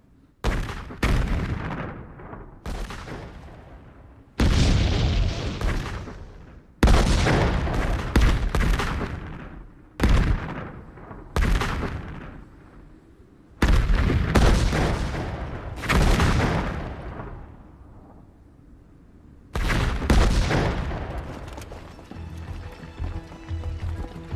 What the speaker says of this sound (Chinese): 这一轮的轰炸炮弹量明显减少